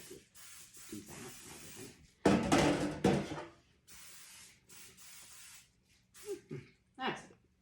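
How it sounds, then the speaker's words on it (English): Canola oil cooking spray hisses onto a pan being lightly greased for a sour cream coffee cake, in several short bursts and one longer spray, with a person talking between them. "I'm going to use this canola oil cooking spray from Costco. Just lightly do that."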